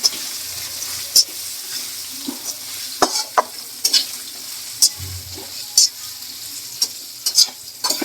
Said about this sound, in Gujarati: પહેલાં બટેકાને આપણે થોડીક વાર ફ્રાય કરવાનું છે